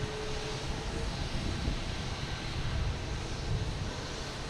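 A British Airways airliner at Boston Logan Airport gives a steady, broad jet roar at some distance, with wind noise buffeting the microphone throughout and no voices.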